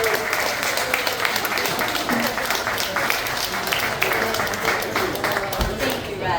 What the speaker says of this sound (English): Can we give a round of applause to my poets?